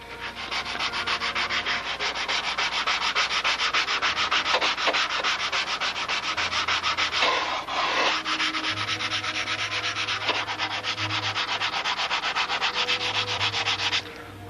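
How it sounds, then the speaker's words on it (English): Wooden flaps of a Brodak Cardinal control-line model airplane being sanded by hand, a continuous close, steady scraping rub with rhythmic strokes and no talking. "I always like to get the last little bit of sanding and truing in after all the hinges are in"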